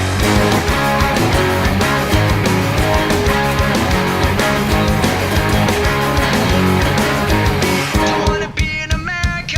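Electric guitar through an Orange OR15 amp playing a song over a dense full-band mix, loud and continuous with driving chords, dropping to sparser hits near the end, with no voices.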